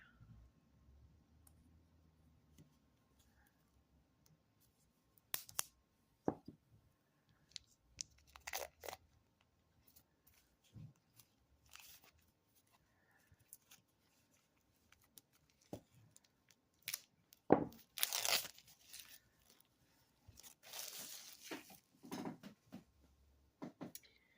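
Plastic wrapping being peeled off an oracle card deck, with sporadic crinkling and tearing crackles in short clustered bursts, quiet and close, with silent pauses between.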